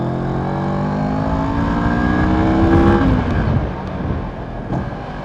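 A CF Moto MT650 adventure motorcycle climbs a hill on a Nepalese road toward Nagarkot, its engine note droning steadily and rising in pitch before shifting, with loud, continuous wind rush over the machine.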